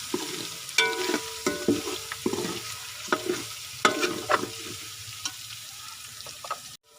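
Garlic frying in oil for a chicken karahi gives a close, steady sizzle punctuated by regular scraping strokes of a spoon against the karahi, ending abruptly.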